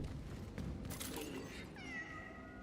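A cat meows in the sci-fi horror game Cronos: The New Dawn, one short, clear meow near the end over a low bed of game ambience.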